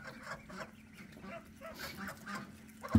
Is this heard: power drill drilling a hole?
no